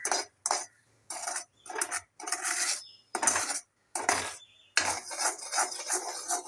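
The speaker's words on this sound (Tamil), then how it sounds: "இது மாதிரி நல்லா பாகோட மிக்ஸ் ஆகிற மாதிரி கலர்றோம்." A spoon scrapes and clinks against a bowl while stirring a cocoa mixture with sugar syrup for homemade chocolate, in short repeated bursts with brief pauses between strokes, close and clear with no talking.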